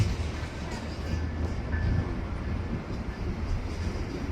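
A heavy freight train of containers and intermodal cars rumbles past at a crossing, giving a steady low, dense rolling noise at moderate level.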